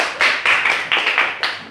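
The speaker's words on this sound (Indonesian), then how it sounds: "tepuk tangan untuk Heni" Students in a classroom clap together for a classmate, a short burst of about five loose, uneven claps heard close by.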